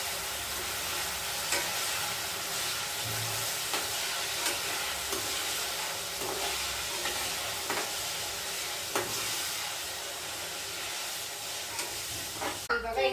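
Banana chips fry in hot oil with a dense, continuous sizzle and scattered soft crackles, ending in a louder burst of bubbling near the close.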